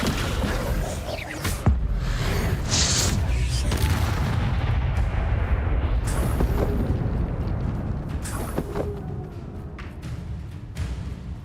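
Explosive Confringo blast spells in the video game Hogwarts Legacy, a dense run of booming bursts and sharp cracks over rumbling battle noise, loud and continuous throughout.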